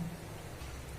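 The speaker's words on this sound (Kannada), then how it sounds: "ತುಂಬ ಮಳೆ" Heavy rain pours down in Bengaluru, a steady, dense hiss of water that holds even throughout with no voices.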